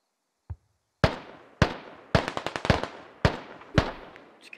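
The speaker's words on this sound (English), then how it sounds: "Enemy mortars going up." Enemy mortar rounds land in the Squad military shooter, six or seven sharp blasts at uneven intervals after a faint initial thump, each with a decaying rumble and some crackle between impacts, with no talk.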